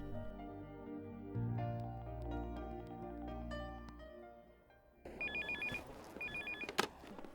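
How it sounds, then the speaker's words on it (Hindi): A telephone rings in a repeated double-burst pattern, two clear ringing bursts after a stretch of film background music, loud and close with no talk over it, in a Hindi-dubbed South Indian action movie scene. "फोन ही करती हूँ।"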